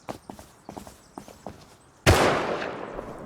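A single loud gunshot blast in the survival video game Rust, preceded by a few soft footsteps and clicks, the report ringing out and decaying over about a second.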